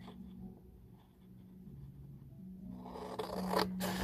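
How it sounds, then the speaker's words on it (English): Big scissors cutting through paper along a line, with faint snips and scraping at first that grow into sharper, louder cuts near the end over a low background hum. "We're going to take my big scissors,"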